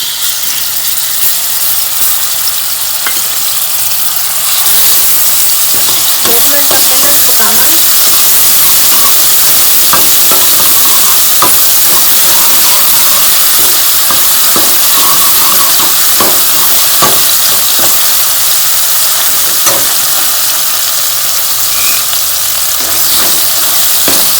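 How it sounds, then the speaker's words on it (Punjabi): Ginger, garlic and green chili paste sizzles steadily in hot oil in a kadai, a loud continuous frying hiss with scattered crackles and stirring scrapes throughout, quieter for the first few seconds. "ਹੁਣ ਆਪਾਂ ਇਹਦੇ ਚ ਅਦਰਕ ਲਸਣ ਤੇ ਹਰੀ ਮਿਰਚ ਦਾ ਪੇਸਟ ਪਾ ਦਾਂਗੇ"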